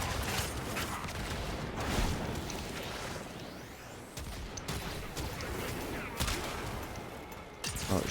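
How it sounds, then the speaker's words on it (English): Incoming missiles strike a Railjack ship in Warframe: dense, continuous space-combat barrage of bursts and crackling impacts with mechanical creaks, loud and busy throughout with several sharper hits standing out. "Missiles incoming."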